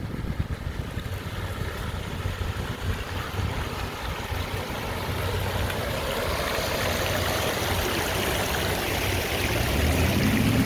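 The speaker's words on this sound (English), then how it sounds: "Nice waterfall out here." An outdoor waterfall rushes continuously, a steady broadband roar of falling water heard without talk, growing slightly louder and denser toward the end.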